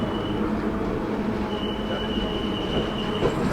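The Malgudi Express pulls into Mandya station with a continuous close rumble of rolling coaches and a thin metallic wheel squeal running over it, steady and loud.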